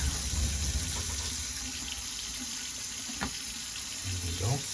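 Water runs steadily from a repaired Kohler Fairfax faucet into a sink, a close, continuous gush with a few small knocks and clatters on top.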